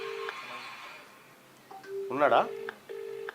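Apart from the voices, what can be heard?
telephone dialing tones while placing a call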